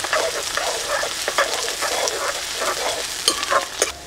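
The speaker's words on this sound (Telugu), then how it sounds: "నూనె వేడెక్కిన తర్వాత కోసి పెట్టుకున్న 3 పెద్ద సైజు ఉల్లిపాయ ముక్కలు వేసేసుకుందాం." Three large chopped onions frying in hot oil, a dense, bright sizzle with steady stirring scrapes, close and loud, with a few sharper clicks near the end and no talk.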